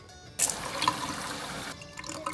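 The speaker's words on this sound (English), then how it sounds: "we're going to pour off the mold and the water at the top" Water and mold poured off the top of seed pulp in a container, a steady splashing pour that starts abruptly, runs about a second and a half, then thins to a light trickle.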